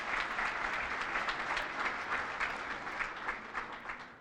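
An audience applauding at a live awards event, a steady wash of clapping that tapers slightly at the end, no speech.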